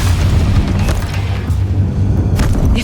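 Deathbringer machines in Horizon Zero Dawn fire explosively, producing a heavy, continuous low rumble of booming blasts that stays loud throughout.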